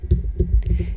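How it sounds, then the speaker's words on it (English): Brisk typing on a computer keyboard while entering a claim amount, several close, crisp key clicks in quick succession over a low background hum. "Be sure to type in your claim amount."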